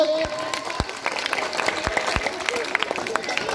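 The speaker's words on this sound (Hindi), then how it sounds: "सिंधु हाउस पर आइए, इनको 5 ताली से बधाई दीजिए।" Children at a Children's Day 2019 school quiz give a round of congratulatory claps, several sharp, separate claps rising out of crowd noise and chatter, with voices talking throughout.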